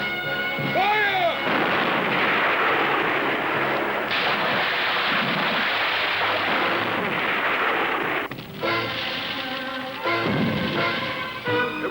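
Pirate ship cannons fire in a seafaring audio drama, producing heavy booming blasts that roll into a long rumbling roar, with shouted voices over the bombardment.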